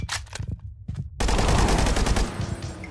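Modded guns from the Timeless and Classic gun mod fire in Minecraft: a few separate sharp shots, then a dense, loud, sustained burst of rapid automatic fire that rings on as it tails off.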